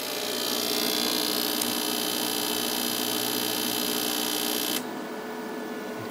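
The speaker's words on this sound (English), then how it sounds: "Now listen to the inverter" A Victron Phoenix or MultiPlus inverter charger with a poor sine wave hums steadily, close and constant, and its high whine drops out near the end while a lower hum carries on.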